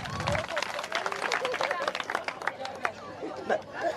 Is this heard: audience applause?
yes